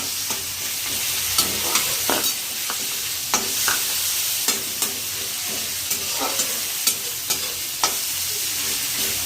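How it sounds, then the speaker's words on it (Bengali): Grated garlic and onion fry in hot oil with cumin for an egg and pea curry, giving a loud, close, continuous sizzle broken by regular scraping stirs of a spatula against the pan. "আমার এই রসুন আর পেঁয়াজ গ্রেট করে রেখেছিলাম, সেইটা দিয়ে দিলাম তেলের উপরে। এটা একটু ভাজা ভাজা করে নিতে হবে।"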